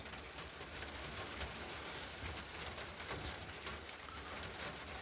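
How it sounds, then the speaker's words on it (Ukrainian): Steady rain patters on a farm field in a soft, dense hiss, with birds cooing faintly in the background and no voices. "Ох, серце радується, як дощ йде"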